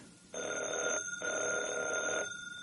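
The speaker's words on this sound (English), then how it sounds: "Evans, did that phone ring?" A telephone bell rings twice in a radio drama, two long electric trills separated by a brief pause, loud and close with no talk over it.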